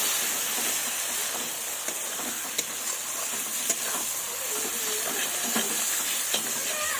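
Garlic paste stirred into mutton frying in a pan makes a dense, steady sizzle with repeated spatula scrapes and small knocks, close by, no talking.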